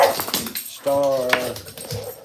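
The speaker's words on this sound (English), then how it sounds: "I got a big dog. this is my pit bull, Star." A pit bull whimpers and whines in excitement, a short high-pitched tonal cry rising over indoor chatter, with people talking close by before and after it.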